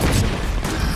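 Grenade explosion in a tactical shooter video game, a loud dense booming blast that fills the whole moment with low rumble and crackle, no voices heard.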